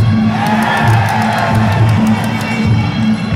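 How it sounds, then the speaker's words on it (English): A crowd at a Muay Thai fight cheers and shouts steadily and loudly, with excited whoops rising throughout and no pause in the noise. "the crowds behind both boys here getting excited"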